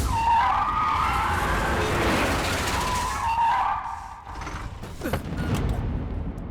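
A car skids to a sudden stop during a chase scene in a dubbed South Indian action film, a long loud tire screech over engine roar, followed by quieter rumbling and a few thuds.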